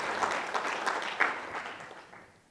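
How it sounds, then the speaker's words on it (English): An audience at a conference event gives a brief round of applause, a moderate, scattered clapping from a room of people that swells slightly and then fades out. "Anybody who's a brave soul deserves a round of applause."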